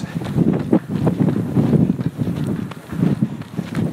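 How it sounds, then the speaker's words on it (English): Wind blows outdoors and buffets the microphone in a low, rumbling roar that surges and eases unevenly for the whole stretch. "you can hear the wind."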